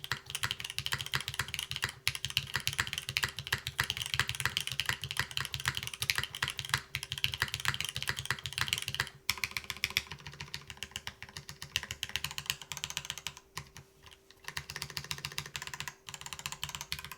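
Steady, fast typing on a Caerdroia mechanical keyboard with a thick plate and top mount, stiff and bassy keystrokes clacking closely and continuously, with a faint background hum.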